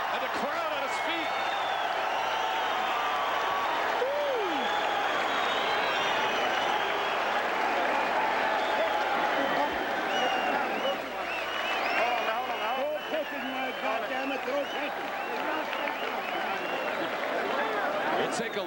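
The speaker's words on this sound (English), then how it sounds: "And the crowd on its feet." A boxing crowd in a heavyweight title fight is on its feet applauding and cheering, a thick, sustained roar of clapping and voices throughout, with a commentator talking over it.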